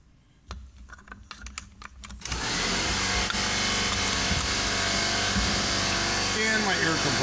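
A home air compressor kicks on with a sudden loud onset after a couple of seconds of faint clicking and handling, then runs at a steady, dense motor drone that holds unbroken to the end.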